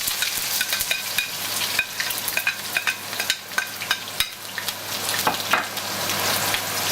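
Onions fry in hot oil, a bright crackling sizzle broken by sharp spatula clicks and scrapes as they are stirred, close and steady with no voices.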